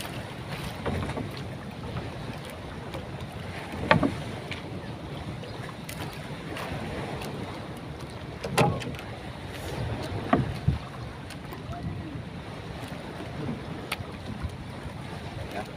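A fishing boat moves across the water with steady wind and engine rumble, occasional knocks and splashes breaking through the constant noise.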